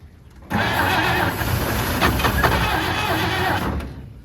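A 1953 Chevy 3100 pickup, unstarted for over 40 years, cranks on its starter after a shot of starter fluid: a loud, steady churning that runs about three and a half seconds without catching and then cuts off.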